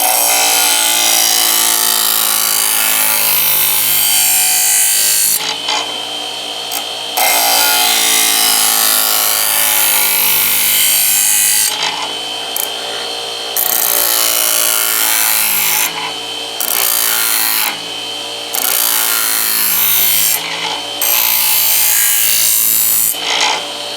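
A knife blade scrapes repeatedly across a homemade budget sharpener in steady back-and-forth strokes, a gritty rasping that runs in bursts with short pauses between sets, close and fairly loud with no talking.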